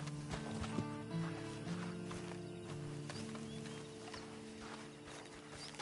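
Horse hooves clip-clopping in Red Dead Redemption 2 on PS4, a steady walking rhythm of hoof falls alongside faint creaking tack and a low musical drone.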